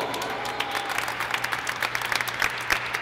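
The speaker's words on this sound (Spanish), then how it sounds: "¡Un aplauso!" Applause and scattered claps from a crowd at a FIFA video game tournament event, moderately distant, with a steady hum underneath and a few sharper claps standing out.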